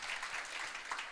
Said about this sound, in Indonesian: Kita kasih tepuk tangan dulu untuk